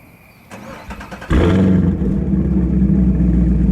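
A Chevrolet Gen 6 Camaro engine cranks briefly on a cold start, then fires and settles into a loud, steady idle, close by.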